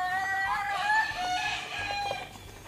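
A backyard rooster crows nearby, a clear, drawn-out call with wavering pitch, while other chickens cluck softly around it.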